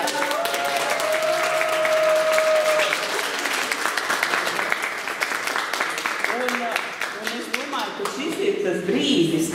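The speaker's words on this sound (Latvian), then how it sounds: "tāpēc milzīgi aplausi Mārai." Audience applause at a Latvian and Swedish storytelling concert in Kuldīga, steady and full for most of the stretch, with a voice and a sustained tone showing through before talk begins near the end.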